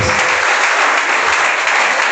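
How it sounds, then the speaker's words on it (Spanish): A church congregation applauds loudly, a close, dense and continuous wall of clapping with no pause through the short stretch. "Le doy un fuerte aplauso al Señor por eso."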